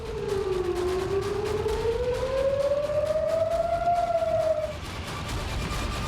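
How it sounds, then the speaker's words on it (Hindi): A loud air raid siren in Israel wails alone, its tone dipping and then slowly rising in a long sweeping whine before cutting out, leaving steady background noise. "यहां पर भी जंगी सायरन सुनाई दे रहे हैं।"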